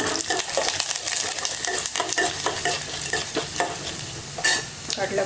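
Curry leaves, chana dal and urad dal fry in hot oil for a Tamil garlic kuzhambu, a loud, close crackling sizzle with spattering pops and steady stirring scrapes throughout.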